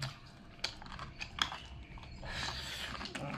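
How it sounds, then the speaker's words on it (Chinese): Crunchy braised pork ribs with chili and cartilage are chewed close to the microphone, with quiet, irregular crunching and biting sounds and no talking. "排骨嘛，嘎嘣脆"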